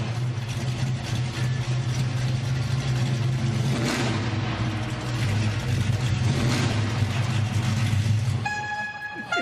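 A restored classic car's engine roars loud and close in a steady, deep rumble, with a brief horn blast near the end and no talking.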